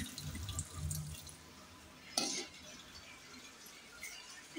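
Salted fish rinsed under running water at a household sink, a soft steady splash with a low gurgle early on and one brief louder gush partway through, fairly close and without talk.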